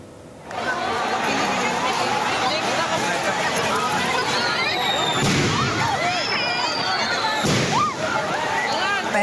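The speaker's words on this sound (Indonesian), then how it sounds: "Masa aksi yang mulai kesal melemparkan petasan ke arah polisi yang tengah berjaga." At a student protest outside the West Java provincial parliament, firecrackers thrown at police crack out in two sharp bangs amid a loud, constant crowd roar of shouting and chatter.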